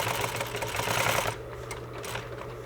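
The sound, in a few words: sewing machine stitching a circular seam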